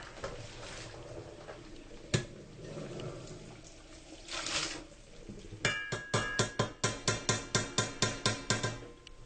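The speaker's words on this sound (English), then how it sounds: "we're going to drain the water from our spaghetti" Water from cooked spaghetti being drained in a home kitchen, with a steady pouring wash of liquid followed by a run of regular, rhythmic clanking knocks of a pot or colander, fairly close and moderately loud.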